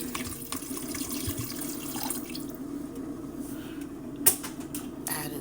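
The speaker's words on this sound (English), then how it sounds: "I'm gonna go ahead and add in my water." Water poured into a cooking pot, a faint, steady trickling and splashing under a background hum, with one brief clink partway through, no talk.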